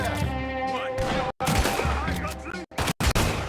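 Gunfire cracks in the video game Red Dead Redemption 2, a rapid string of shots layered over a busy game soundtrack, loud and close, broken by a few short silent gaps.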